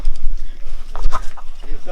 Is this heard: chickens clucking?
yes